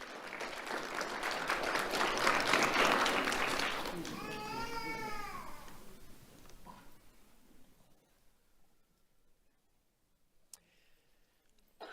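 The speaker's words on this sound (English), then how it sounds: "Let's have a round of applause for Josiah Moore." Applause at a sheriff's office awards ceremony for a sixth-grade student swells to a full, steady round, with a brief high, wavering cheer midway. The clapping fades out to near quiet, leaving a few faint sounds.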